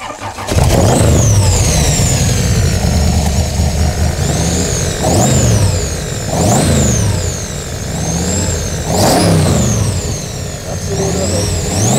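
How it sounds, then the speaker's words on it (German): A 1964 AC Cobra 427 SC MK III with a 7-litre, 550 hp V8 fires up and is revved hard several times, a loud, close, deep roar rising and falling with each blip, with someone talking over it. "Jetzt starten wir euch mal die Maschine."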